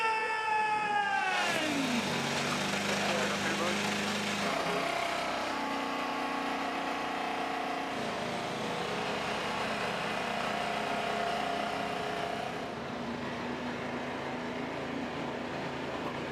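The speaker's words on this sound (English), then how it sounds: "Drivers, start your engine!" IndyCar race car engines fire up on the starting grid at the Sonsio Indy Grand Prix, a loud sustained multi-engine roar that revs and settles into a steady idle drone.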